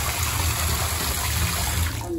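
Water runs steadily into a dog bathing tank, a continuous close splashing rush that holds even throughout before easing off at the very end.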